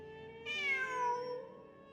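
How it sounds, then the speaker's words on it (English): A single clear cat meow rises and then falls in pitch, close and fairly quiet, starting after a short pause and tailing off over about a second, with no talking. "I'm not hearing things. It really is a cat."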